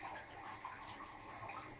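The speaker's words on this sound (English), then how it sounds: "So we're just using a shower to rinse our items." A shower runs at warm temperature to rinse freshly dipped hydrographic items, a steady unbroken hiss of spraying water that stays even and fairly soft throughout with no talk over it.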